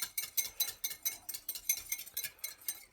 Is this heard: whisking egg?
yes